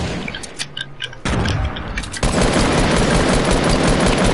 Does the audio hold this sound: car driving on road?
no